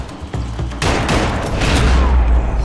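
Gunfire from the video game Max Payne 3: a few sharp shots at first, then a loud, dense, continuous burst of overlapping rapid fire that fills the rest of the moment.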